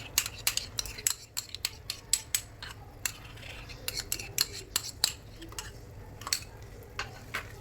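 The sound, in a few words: stirring yogurt into prawns for biryani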